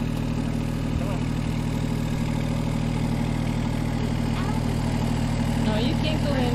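A vehicle engine runs steadily nearby as it is driven over on a property, a constant low rumble with slight revving throughout, voices talking faintly over it.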